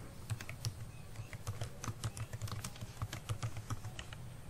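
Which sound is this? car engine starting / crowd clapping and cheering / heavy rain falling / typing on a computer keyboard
typing on a computer keyboard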